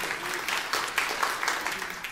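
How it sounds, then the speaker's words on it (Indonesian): A church congregation gives a short burst of even, moderate applause for a pastor, a soft wash of clapping from many hands lasting about two seconds. "Beri tepuk tangan untuk Pastor Jeffrey."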